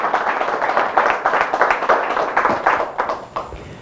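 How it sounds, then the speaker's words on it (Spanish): A congregation at a religious retreat claps in lively bursts that come close together, loud and near, then thin out toward the end. "Fuertes aplausos al Señor Jesús."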